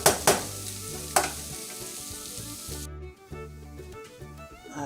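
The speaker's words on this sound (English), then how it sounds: "I'm gonna get my ground beef started" Ground beef fries in a pan with a close, steady sizzle, broken by a few sharp scrapes and clanks of a utensil stirring, with a hum running underneath.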